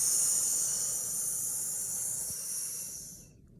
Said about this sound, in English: We'll push out with S breath.